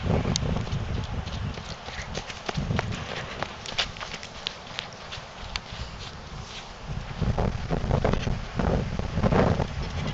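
Horses walk on a farm, their hooves clip-clopping in an irregular, close rhythm under steady wind noise buffeting the microphone.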